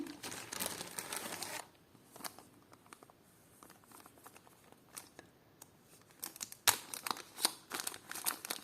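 Plastic packet crinkling close by while a parcel of vintage jewellery is unpacked, with bursts of rustling and crackling at the start and end and quieter handling between.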